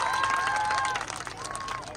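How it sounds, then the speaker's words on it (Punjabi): An audience at a Teej festival gathering claps in a dense patter of hands that thins toward the end, mixed with tonal voices or music. "ਇੱਕ ਵਾਰ ਮੈਮ ਲਈ ਜ਼ੋਰਦਾਰ ਤਾੜੀ ਮਾਰ ਦਿਓ"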